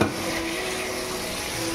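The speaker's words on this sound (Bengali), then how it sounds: "আর এখানে আমি করছি বরবটি আলু ভাজা।" Yardlong beans and diced potatoes fry in a pan in a home kitchen, a steady close sizzle with a brief scrape of stirring at the start.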